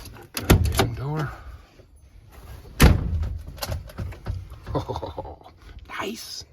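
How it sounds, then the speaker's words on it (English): Rear OEM hard door on a Yamaha RMAX 4 side-by-side slammed shut, giving a couple of sharp close bangs among handling clatter, with people talking around it. "The door, you gotta really slam it to close it"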